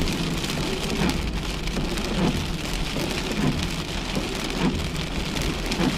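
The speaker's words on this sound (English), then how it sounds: "Oh boy, this is a good rain." Heavy rain pours down steadily on surfaces, a dense continuous patter with occasional louder splashes and no voices.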